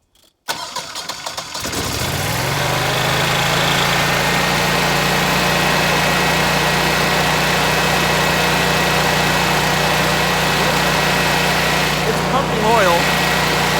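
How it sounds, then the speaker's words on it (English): An 18kW Generac Guardian home standby generator, switched out of auto and started manually, cranks and fires up after a short silence, then settles into a loud, steady engine hum with a brief rattle near the end. "I'm going to take it out of auto, manually run it for a minute or two, and then check the oil"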